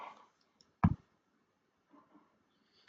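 A single computer mouse click sounds sharply and close in an otherwise quiet room, followed by a couple of faint soft clicks and taps.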